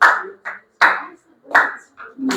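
A school audience claps in distinct bursts at a grade 9 student presentation, several sharp separate rounds of rhythmic clapping with short gaps between them, close and loud.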